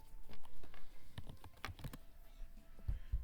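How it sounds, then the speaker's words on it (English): Fast typing on a computer keyboard during a counting exercise, a quick irregular run of close clicking keystrokes with a few heavier taps, no talking. "Look how fast I'm typing."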